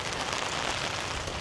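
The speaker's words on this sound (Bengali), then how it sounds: "মানে বৃষ্টি হঠাৎ করে আইসা পড়ে" A sudden rain shower falls steadily outdoors where pigeons are getting soaked, a dense, even patter of drops on surfaces that holds unbroken and fairly soft throughout, with no speech.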